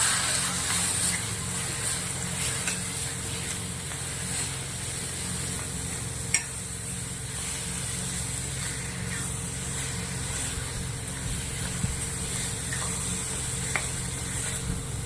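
Rice and chopped green onion stirred together in a hot pan for a Maharashtrian-style curd rice, with a steady sizzle and hiss and faint scraping stirs running throughout, close and continuous with no talking.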